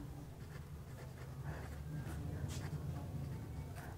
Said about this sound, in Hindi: मंडे लिख लेते हैं।